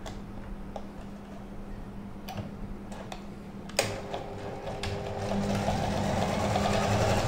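A sewing machine stitches the seams of a shirt pocket with a steady mechanical hum and rapid ticking. The running grows louder and denser toward the end, with a few sharp clicks along the way, close by with no voices.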